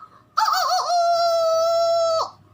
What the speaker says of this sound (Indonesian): Ayam bangun paling pagi, maka dia langsung refleks dan otomatis dia berkokok.